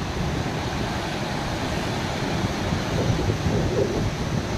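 The swollen Sutlej river, running high above its danger mark after water release from the Karchham dam, gives a loud, continuous broadband roar of rushing water with no pauses.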